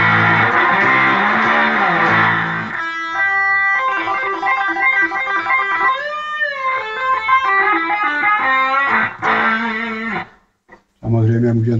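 A recorded instrument plays through a spring reverb effect on a line-input amp cabinet emulation, sustained tones ringing on with a washy tail before a brief dropout near the end.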